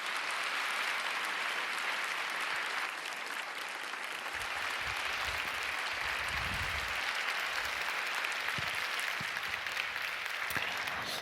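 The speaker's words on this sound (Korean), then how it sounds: "우리 김영서 작가님 나오실 때에 힘찬 박수로 환영하며 맞이하겠습니다." An audience at an evening prayer meeting gives sustained, dense applause to welcome a writer to the stage, a steady roar of clapping lasting the whole stretch.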